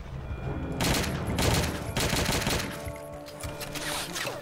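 Video game gunfire in WolfenDoom: Blade of Agony, sustained automatic bursts that are loud and dense, broken by short gaps, with no voices over it.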